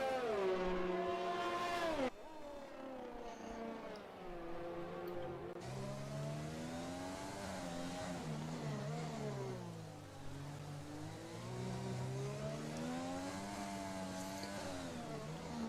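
F1 2020 race cars whine through a wet Singapore street circuit, engines rising and falling in pitch as they brake and accelerate through turns, loud and steady without talk.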